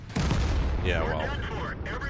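A tank cannon fires in the video game CIM2: one sharp, loud boom opens the scene, followed by a rumbling tail with a voice-like sound over it.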